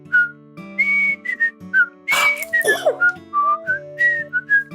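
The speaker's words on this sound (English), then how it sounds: "I'm going to whistle a couple of TV themes" A person whistles a television theme tune, loud and close, with clear sustained melodic notes and short pauses over a steady backing tone.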